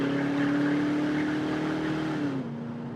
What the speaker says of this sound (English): And just hearing this exhaust again here.